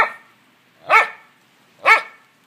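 A puppy barks three times, sharp and close, with each short yap spaced about a second apart and silence in between.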